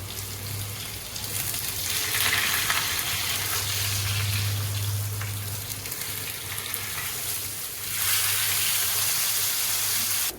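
Fish frying in hot coconut oil with curry leaves gives a continuous loud sizzle, with a low steady hum underneath and a surge of hissing toward the end.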